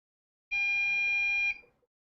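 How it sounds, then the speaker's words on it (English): A QNAP TBS-h574TX all-SSD NAS gives a single warning beep, a steady electronic tone held for about a second before cutting off, clear and alone. "Is that a warning that we're hot?"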